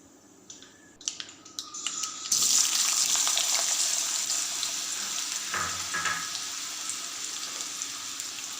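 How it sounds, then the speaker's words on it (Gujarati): Potato slices dropped into hot oil with cumin and mustard seeds, setting off a sudden loud, steady sizzle that stays strong and slowly eases a little, with a few clinks at the start. "જીરું અને રાઈ થોડું ચટકવા લાગે એટલે હવે આપણે બટેકાની સ્લાઈસ પણ ઉમેરીશું"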